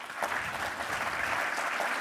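Steady audience applause fills a conference hall, a dense patter of many hands clapping at moderate distance for a couple of seconds, with no speech over it.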